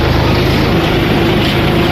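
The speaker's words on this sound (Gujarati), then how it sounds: "આપણે ટ્રેક્ટર ચાલુ કરી દીધું છે।" Tractor engine running on a village farm, a loud and steady low mechanical drone that continues without a break from start to finish, with no voices over it.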